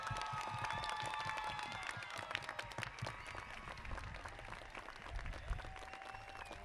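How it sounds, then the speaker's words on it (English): Sustained applause from a large crowd at a 2023 Whittier College commencement, honoring the standing faculty; dense steady clapping fills the whole stretch with a few sharper claps rising above the wash. "Please join me in applauding the faculty of Whittier College."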